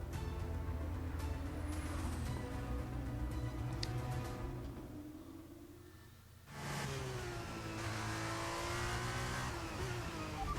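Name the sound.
race car accelerating out of pit in F1 23 video game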